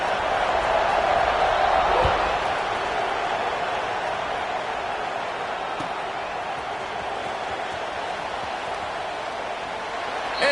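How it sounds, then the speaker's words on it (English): Stadium crowd at a Washington vs UCLA college football game, a broad, steady roar of many voices that peaks early, then settles into a sustained distant murmur and cheer. "this crowd is feeling themselves after that last drive"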